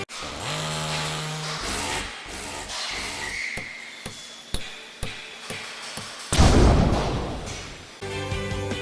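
Repeated sharp mechanical bursts of a drill or similar power tool enlarging screw holes in a DIY PC test bench frame, with short pauses between the passes and a louder, longer burst near the end.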